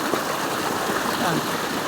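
A strong stream rushes past, its water loud, close and constant in a dense, unbroken roar.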